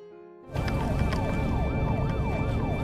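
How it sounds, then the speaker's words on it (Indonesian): Police and ambulance sirens burst in loudly and wail together in overlapping rising and falling sweeps over a low vehicle rumble. "tak lama kemudian, polisi serta ambulans datang"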